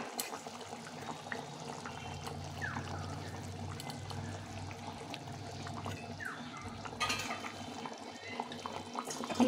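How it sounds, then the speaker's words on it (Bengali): Water is poured into a pot of simmering egg curry, giving a steady, faint liquid trickle and gurgle over a low background hum for several seconds, without speech. "সেই জলটা দিয়ে দেবো।"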